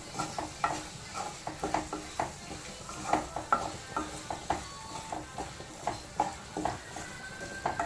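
Tomato curry being stirred in a pan, with a steady run of spoon scrapes and clinks every half second or so over a soft background sizzle, close and moderately loud, no voices.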